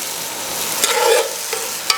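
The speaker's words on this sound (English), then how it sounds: "We only seared these for about 45 seconds." Steak nuggets sear in a hot pan with a steady, close sizzle and crackle, with a few brief pops and scrapes near the end.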